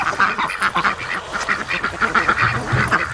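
A flock of ducks quacks continuously and loudly close by as they are herded toward a swamp, the quacks overlapping in a busy, dense chorus.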